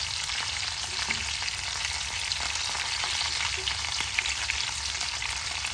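A large steak sizzles steadily in a hot pan, a dense continuous frying hiss that holds close and even throughout with no voices.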